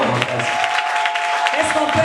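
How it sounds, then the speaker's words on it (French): Inside a church during an evangelical celebration service, the congregation breaks into loud, sustained applause and clapping, with a steady tone running underneath and voices mixed in. "Applaudissons pour le Seigneur."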